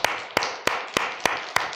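Rhythmic hand clapping, six sharp evenly spaced claps at a slow steady pace, fairly close and loud against a faint room background at the end of a health lecture.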